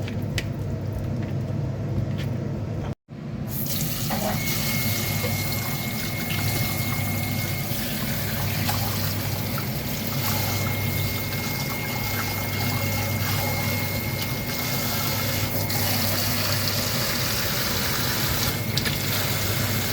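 Shrimp coated in tapioca starch rinsed under a running tap, a steady continuous flow of water splashing and trickling close by for the whole stretch, with one brief break near the start.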